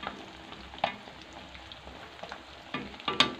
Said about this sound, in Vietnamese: Mình sẽ chiên rán cho nó giòn luôn mọi người nhé.